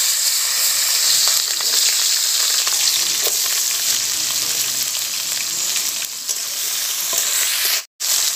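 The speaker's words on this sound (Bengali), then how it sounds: "এবার ওই তেলেই আমি ডাঁটাগুলো ভেজে নেব।" Vegetable stalks frying in hot oil left over from frying rohu and katla fish, a loud, steady, dense sizzle close by that cuts out briefly near the end, with no voices.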